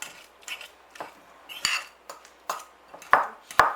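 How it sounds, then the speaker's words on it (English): A fork mashes boiled egg yolks with paprika in a bowl for devilled eggs, sharp clinks and scrapes of metal against the dish coming in irregular bursts, close and fairly quiet with no talk. "Smash it with the fork."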